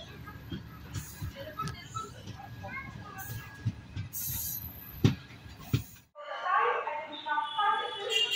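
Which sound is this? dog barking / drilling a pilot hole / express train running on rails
express train running on rails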